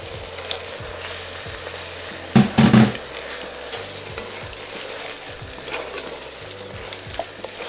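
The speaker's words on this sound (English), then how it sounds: "we're gonna add our bacon back in with the juice, or bacon grease, I should say." Bacon and mushrooms fry in bacon grease in a pan for rigatoni, a steady close sizzle broken by a short loud burst of stirring and scraping partway through, with no talking.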